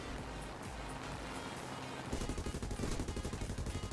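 Spitfire Mk Ia machine guns in War Thunder rattle in a fast, steady burst during an air fight, loud and close, with a lighter stretch of engine and game noise before the gunfire starts.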